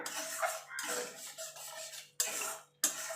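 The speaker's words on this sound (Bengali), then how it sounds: "এবার ভালো করে সব মশলাগুলো কষিয়ে নেব" Quiet scraping and rubbing of a spoon stirring salt and Kashmiri chili powder with spices in a frying pan for an egg and potato curry, in several short bursts separated by near silence.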